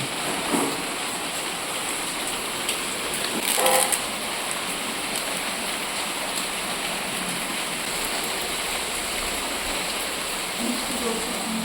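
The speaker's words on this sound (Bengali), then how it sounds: "কত জোরে বৃষ্টি হচ্ছে দেখুন" Heavy rain pours down in a dense, steady hiss that holds unbroken throughout, with voices talking briefly over it.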